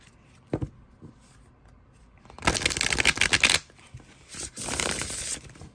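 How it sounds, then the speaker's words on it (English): Two quick bursts of a tarot deck being shuffled close by, a crisp riffling flutter, with quiet pauses before and between. "I also love this cardstock. It shuffles so nicely."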